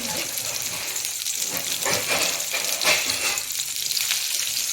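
Food frying in oil in a covered pan while making uggāni, a continuous hissing sizzle with bursts of sputtering crackle rising and falling, close and fairly loud.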